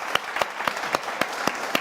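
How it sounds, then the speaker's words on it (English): A conference audience gives a short round of applause for a speaker named Mark, with sparse, evenly spaced sharp claps over a soft wash of hand noise. "can we give Mark a round of applause"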